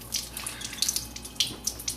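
Water runs from the tap of an EOS Genesis Platinum water ionizer, a light splashing trickle with scattered drip-like spatters, close and fairly quiet, with no talk.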